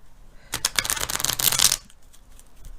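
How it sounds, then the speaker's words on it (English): A mini tarot card deck is shuffled by hand in a quick, close burst of riffling card flutter lasting about a second, alone in a quiet room. "We'll give it one more shuffle."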